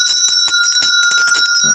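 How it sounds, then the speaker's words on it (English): A hand bell is rung continuously indoors, its bright metallic clanging loud and close with rapid repeated strikes. "So, you ought to get you a good bell. Ring it every now and then."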